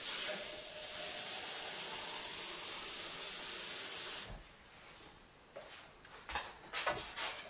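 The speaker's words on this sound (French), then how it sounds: "Je rajoute de nouveau 500 ml, voilà, pour obtenir 1 litre d'eau." Water pours into a saucepan of flour paste for papier-mâché glue, a steady close rushing stream for about four seconds that then cuts off, followed by a few scattered clinks and knocks.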